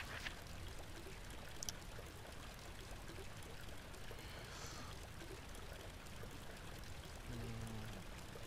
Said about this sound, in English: One pipe is loosened, leaking water.